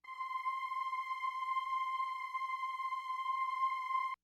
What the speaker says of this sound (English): it is originally a string drone